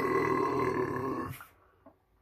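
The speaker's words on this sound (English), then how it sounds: "Pardon my burp there, but I just had some cookies" A loud, drawn-out burp after eating cookies, rumbling for over a second before cutting off, followed by a brief faint click in near silence.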